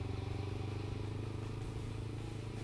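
A motorcycle engine idles or runs steadily with a low, pulsing throb and a faint rattle, constant and fairly quiet.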